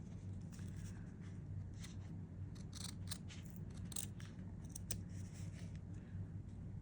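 Scissors trimming paper close by, a faint string of soft snips and crisp cuts over a steady low background hum, with no talk.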